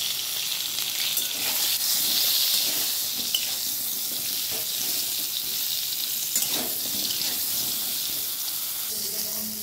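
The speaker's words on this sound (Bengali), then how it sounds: "সঙ্গে দিয়ে দিচ্ছি অল্প একটু নুন আর হলুদ দিয়ে পটলগুলোকেও একদম লাল লাল করে ভেজে নিচ্ছি।" Pointed gourd (potol) frying in a pan with a little salt and turmeric, a steady close sizzle and hiss running throughout with occasional stirring scrapes.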